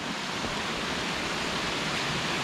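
Water pours steadily out of a stone-walled river pool in the mountain village of Piódão, Portugal, a continuous broadband rush like a small waterfall, close and unbroken with no voices.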